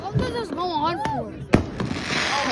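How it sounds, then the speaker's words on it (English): Fireworks pop and boom at a warm-night beach show, one sharp crack standing out midway, while people talk and exclaim over the bursts. "That wasn't just firework."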